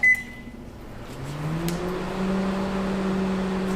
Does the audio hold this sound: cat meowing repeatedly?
no